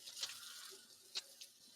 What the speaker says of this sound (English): Quick little rinse, and then we'll be on our way.